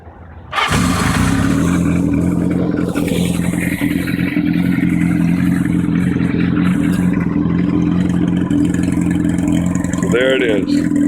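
A Kawasaki KZ650 motorcycle engine fires up after a brief silence and settles into a loud, fast, steady idle close by.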